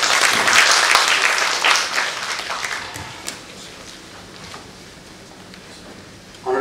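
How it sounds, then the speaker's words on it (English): At a law lecture, the audience breaks into loud, full applause that swells at first and then fades over several seconds into sparse claps and quiet. "Please give a huge round of applause"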